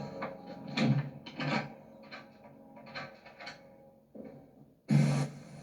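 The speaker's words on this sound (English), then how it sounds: "locking the door behind him." A heavy meat locker door is pushed shut and locked, with a series of hollow thuds, clunks and metallic latch rattles spread irregularly, ending in a loud final bang, close and quiet overall.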